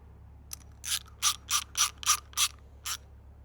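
A ratchet with a socket clicks through seven or eight quick, evenly spaced bursts while tightening a Darkside cold air intake on a BMW 4 Series B47 diesel, crisp and close with no talking.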